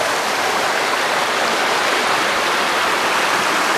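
Rocky Creek on the Current River section of the Ozark National Recreation Trail rushes steadily, a loud continuous broadband flow close by with no voices over it.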